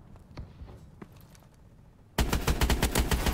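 Gunfire from an EPM3 weapon in a video game: after quiet footsteps and a few scattered shots, a loud rapid burst of automatic fire erupts and continues to the end.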